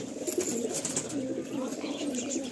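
Adult Pashchima pigeons, part of a Madrasi and Giribaj pigeon collection, coo in low, steady murmurs close by throughout, with faint chirps and background voices.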